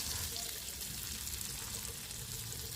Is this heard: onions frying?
yes